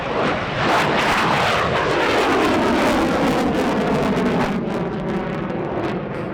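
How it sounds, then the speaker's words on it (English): A Ukrainian Air Force fighter jet performs a flying display at the Gdynia AeroBaltic airshow, its engine roaring loud and close with a sweeping, shifting whoosh as it passes overhead, then gradually easing. "The Ukrainian Air Force now taped the sky with their primary fighter aircraft."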